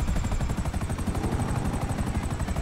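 A helicopter lifts off in a video game, its rotor chopping in a fast, even, loud rhythm that fills the whole stretch, with no voices.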